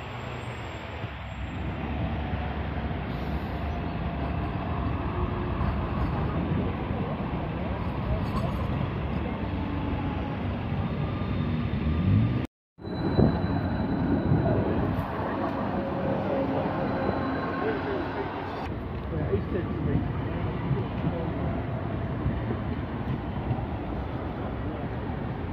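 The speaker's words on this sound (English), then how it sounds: "the trams go down there on the road a little bit" A tram runs along a street in South London, giving a loud, steady rumble and rattle that fills the whole stretch, broken only by one brief cutout midway.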